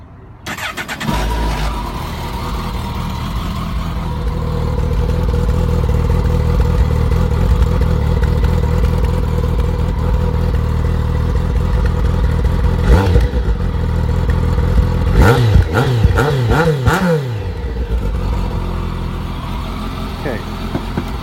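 A Kawasaki Concours motorcycle built on the ZX14 platform starts up and settles into a steady, loud idle, then gets a short burst of sharp throttle blips near the end.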